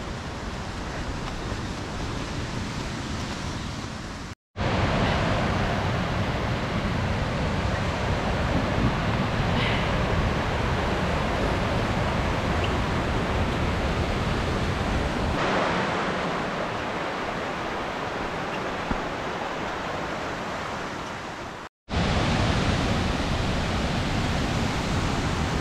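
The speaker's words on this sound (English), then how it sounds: "I'm going to just have a nosy at the waterfalls on my way up." Stock Ghyll waterfall near Ambleside in the Lake District gives a constant broad rushing roar, loud and unbroken apart from two brief cuts, with no talking.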